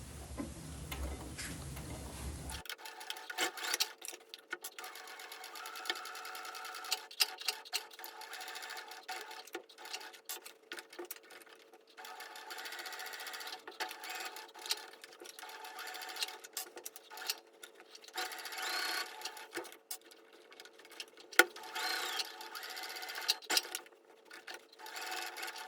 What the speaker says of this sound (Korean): 창구멍을 남기고 노루발 간격으로 쭉 재봉해 줍니다.